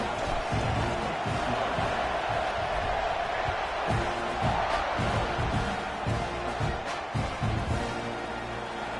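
A stadium crowd in an NCAA football video game, Texas A&M against Texas, keeps up a loud continuous roar and cheer before a kickoff, with thumping beats pulsing underneath throughout.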